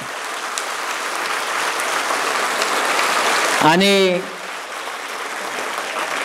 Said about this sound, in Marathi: त्यांच्यासाठी एकदा पुन्हा हात वड करून टाळ्या वाजवा. जोरात वाजवायच्या, जोरात.